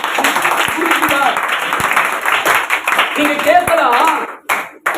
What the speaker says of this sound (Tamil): கை தட்டுங்க பார்ப்போம்